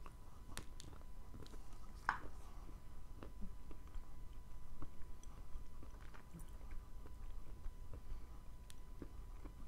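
Close, quiet crunching and wet chewing of Chyornaya Uralskaya clay, with irregular soft bites and squishy mastication sounds repeating over several seconds.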